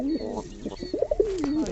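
Fantail pigeons cooing close by, a run of soft, rolling low coos that rise and fall in pitch, with a few short wavering notes toward the end.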